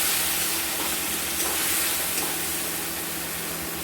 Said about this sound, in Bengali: জল দিয়ে আমরা এটাকে কষবো